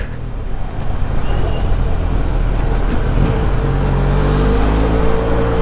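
A vehicle approaches from behind in city traffic while a 2021 Benelli Leoncino 500 BS6 motorcycle is ridden, a loud steady roar of engine and road noise with a rising whir toward the end.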